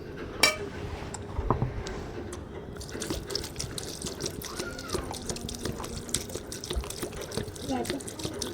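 Water poured onto scooped-out bael fruit pulp in a kitchen for sharbat, a soft trickling and splashing with scattered drips and clinks, heard close under a person talking.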